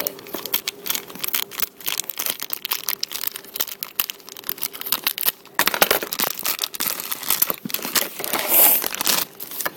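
Plastic packaging around toy biscuits for a miniature doll kitchen set is opened, with continuous crinkling and crackling close up, a burst of louder tearing and rustling partway through.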